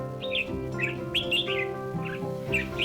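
A red-whiskered bulbul sings a series of bright, warbling chirps and short whistled phrases, clear and close, over a constant low background hum.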